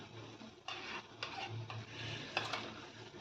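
Cooked brinjal being mashed for chutney gives soft, faint squelching and scraping strokes with occasional utensil taps against the pot. The strokes come in an irregular rhythm and no one speaks.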